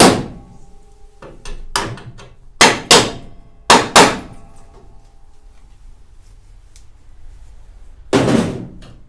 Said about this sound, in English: I'll either gently tap it.